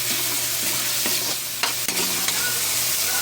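Tomatoes sizzling and sautéing in a pan for monggo, a steady close frying hiss broken by the clinks and scrapes of a spatula stirring now and then.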